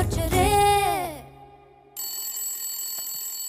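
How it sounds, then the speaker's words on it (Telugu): A phone ringtone plays loudly and close: a short melodic burst of tones, a brief pause, then a steady bright ringing that continues to the end. "ఏ శైలు ఫోన్ రా"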